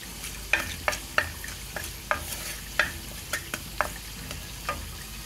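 Curry leaves, cardamom pods, cloves and a little cinnamon frying in hot oil in a pan, a steady soft sizzle broken by irregular sharp scrapes and clinks of a spoon stirring, close by with no talk.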